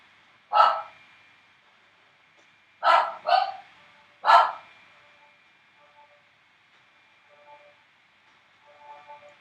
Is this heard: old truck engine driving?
no